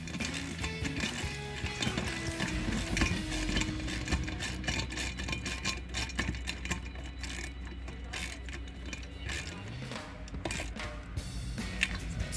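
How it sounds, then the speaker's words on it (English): Nuts and bolts on a 1994-1998 Mustang V6 cold air intake are tightened with a 10mm wrench and 10mm deep socket, giving close, quick metallic ratchet clicks and tool taps in irregular bursts. "using our 10mm wrench and 10mm deep socket, we will go ahead and cinch these down."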